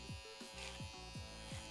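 Electric hair trimmer buzzing close up as it cuts hair over a comb during a taper, with a steady hum broken by short repeated strokes.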